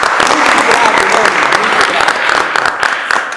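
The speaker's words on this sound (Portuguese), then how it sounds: "palmas aqui" Applause from a group gathered for a Corinthians versus Palmeiras football fan debate, loud close clapping with scattered sharp claps and a few voices mixed in throughout.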